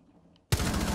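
Rapid video game gunfire bursts in abruptly after a near-silent moment, then continues as a loud, dense stream of shots.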